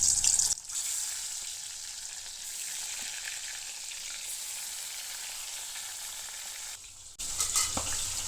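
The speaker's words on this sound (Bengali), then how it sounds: "কড়াইটা গরম হয়ে গেছে, এখানে দিয়ে দেবো তো মাছগুলো।" Salted katla fish pieces fry in oil in a hot wok, sending up a bright, continuous sizzle that stays steady for several seconds, with louder bursts at the start and end.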